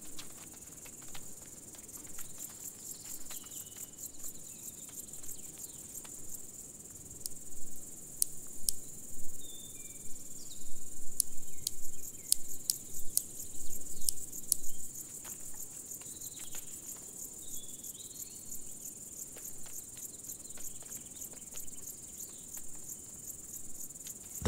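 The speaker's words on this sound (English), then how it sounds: "The large marsh grasshopper pair marches across the wet ground." Large marsh grasshoppers chirp on wet moor ground in a dense, steady high-pitched buzz, with a louder burst of ticking stridulation in the middle and faint rustling beneath, with no voice.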